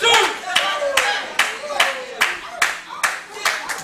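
Wrestling fans at a Christmas Rumble event clap in unison, loud rhythmic claps landing roughly every half second, close and sharp over faint crowd murmur.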